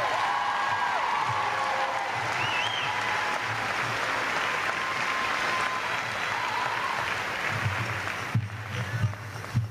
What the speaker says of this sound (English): So let's give all of them one more big round of applause.